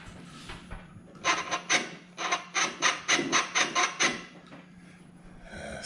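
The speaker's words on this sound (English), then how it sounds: "You can hear the throttle body." Electronic throttle body on an LQ9 LS-swapped Squarebody C10/C15 pickup actuating as the pedal is pressed, a series of about nine rhythmic rasping, whirring pulses close by, with quieter movement before and after.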